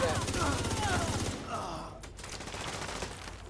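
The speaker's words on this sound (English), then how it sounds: "He's shooting me with Blacklist." Rapid automatic gunfire from an enemy Marauder firing a Blacklist gun in a video game, a dense burst of shots for over a second, then quieter in-game effects and a faint groan, with no talking.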